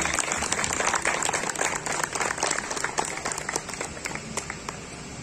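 Dense, sustained applause from a large audience at a workshop event, steady and loud throughout with many overlapping claps.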